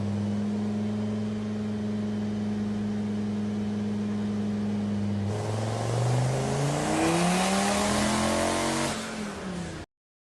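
Twin-turbo 1000 hp Dodge Viper engine on a dyno, idling steadily and then revving hard in a long rising pull before cutting off abruptly.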